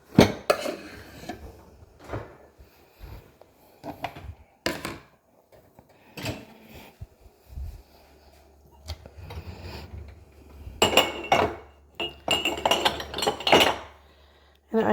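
Dishes being washed at home, with pots, pans and cutlery clinking and clattering in irregular bursts, a steady low hum underneath in the second half.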